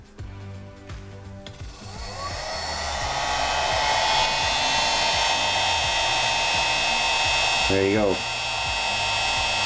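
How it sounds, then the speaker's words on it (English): A small heat gun switches on and blows hot air in a steady rising whoosh that settles into a constant high whine, close and moderately loud, while someone says a few words near the start and a brief squeak sounds near the end. "I have a little heat gun here that I'll just turn on and we can see what happens."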